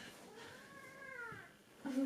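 An indoor house cat gives one drawn-out, fairly faint meow that rises and falls, followed by a brief louder sound at the end.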